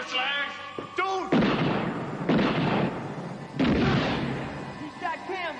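Gunfire in a TV drama scene: several loud, booming shots about a second apart, each with a long echoing tail, close and heavy, with voices shouting around them.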